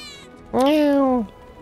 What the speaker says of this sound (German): Kann die nicht nochmal mounzen?